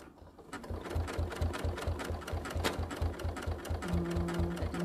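A sewing machine stitches in a fast, steady mechanical rhythm during couching work, close and moderately loud, with a brief higher whine near the end. There is no talking.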